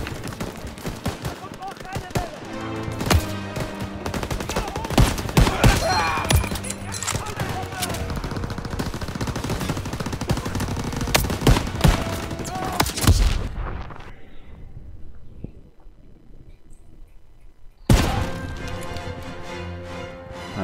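Dense gunfire and rattling machine gun bursts fill a Call of Duty WWII battle, rapid loud shots overlapping with in-game shouting, dropping to near quiet before another sharp volley.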